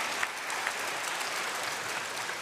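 Spectators at a Champions League table tennis match clap in a sustained, even wash of applause, many hands blending into a constant patter with a few sharper claps standing out.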